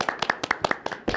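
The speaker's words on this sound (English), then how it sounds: "So big round of applause for that guy." A short burst of scattered hand clapping from an audience at a software team's presentation, with distinct, separate claps and no talking.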